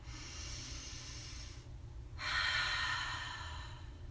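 Two close breaths during a children's breathing exercise in an elementary class: an airy exhale, a brief pause, then a deeper, louder inhale that swells and slowly tapers.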